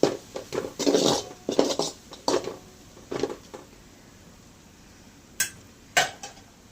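Mutton head masala being stirred in a pot for a Chennai-style curry, with a series of scraping, clinking spoon-against-pot strokes in irregular bursts, close and moderately loud, easing off into a few sparse knocks near the end.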